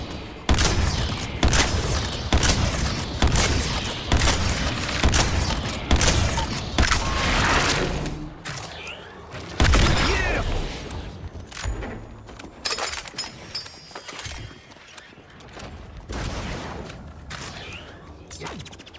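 Covering gunfire fills a battle in the video game Suicide Squad: Kill the Justice League. Loud rapid bursts repeat in a steady rhythm, broken by impacts and clattering debris, then thin out toward the end.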